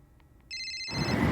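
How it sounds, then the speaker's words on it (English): A telephone ring sounds as a short electronic tone bursting in after faint ticks, then fading into a louder wash of background noise, alone without speech. "the phone call."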